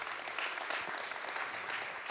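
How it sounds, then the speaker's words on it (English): An audience at a science film festival applauds a Finnish documentary director as she is welcomed, with steady dense clapping filling the hall throughout. "Your applause."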